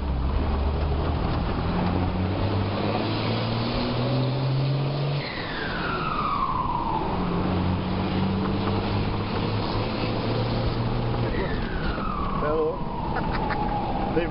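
A turbocharged 1113 vehicle's engine revs and accelerates along a street, heard from inside over continuous road rumble, with people talking throughout and sharp rising tones cutting in now and then.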